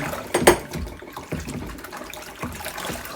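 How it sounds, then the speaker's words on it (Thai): Dishes washed by hand under running tap water, splashing with irregular clinks and knocks of crockery, close and uneven, no talking. "พาล้างช่วยด้วย ด้วยมือไม่ใช้เครื่อง"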